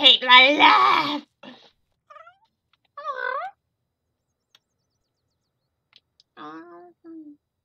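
A cat meows in The Sims 4 with a long whining cry, then shorter, fainter mews spaced out over several seconds, with near silence between them.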